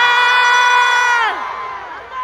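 A university festival crowd at a concert lets out a loud, sustained unison shout that holds steady, then drops off and trails away into lower, scattered cheering.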